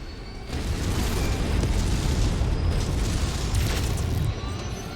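A target is destroyed by fire weapons in modded Mechwarrior 5, a loud sustained rumbling explosion that bursts in after half a second and churns on for several seconds, close and heavy with no talking.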